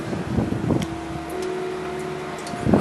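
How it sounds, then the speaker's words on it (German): Pellet stove fan on a FOCO Basic 8 kW pellet stove blowing warm air, a steady whooshing hum with a faint tonal whine, close and continuous at moderate level, rising briefly at the start and end. "Also hier kommt jetzt warme Luft rausgeströmt. Richtig schön wie aus dem Föhn, nur im größeren Ausmaß."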